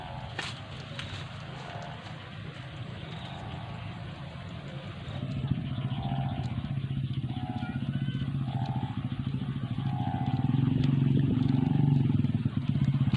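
A motorcycle engine idling nearby, a steady low rumble that grows louder partway through and again near the end, with light clatter and occasional faint sounds around it.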